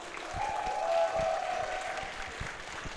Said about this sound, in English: can I get a massive round of applause